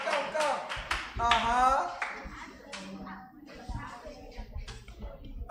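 A small audience claps for a child in a few sparse, uneven bursts, close and fairly quiet, interspersed with adults and someone talking.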